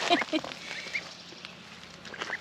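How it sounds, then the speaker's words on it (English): A mother goose out with her three young goslings gives close, high chirping calls in short bursts, with soft background sounds and faint voices. "So the three little goslings that hatched out, she brings them out every occasionally with her to give them out and get some exercise."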